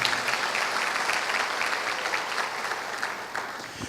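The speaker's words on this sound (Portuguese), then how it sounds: "Vamos aplaudir a palavra de Deus." A church congregation claps steadily after a scripture reading, a dense, even roar of many hands sustained throughout and fading slightly toward the end.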